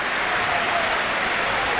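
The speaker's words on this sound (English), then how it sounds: "And both players are warmly applauded off the field." A football stadium crowd at an Aston Villa versus Manchester City Premier League match applauds players being substituted off, a steady wash of clapping heard briefly and evenly.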